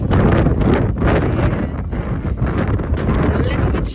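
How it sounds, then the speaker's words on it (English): Strong gusty wind batters the microphone in a loud continuous roar, with rough buffeting bursts throughout. "but it's really windy."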